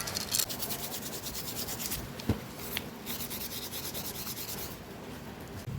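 Steady dry rubbing of sandpaper over a Toyota Hilux 3.0 D4D part being prepped for black paint, a continuous close scratchy abrasion with a couple of brief knocks, no talking.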